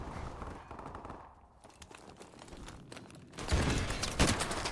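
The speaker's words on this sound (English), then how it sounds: "stray bullets flying everywhere" Gunfire in Call of Duty Modern Warfare Remastered: rapid automatic bursts crackle in the background, then erupt into loud, close, sustained shooting toward the end.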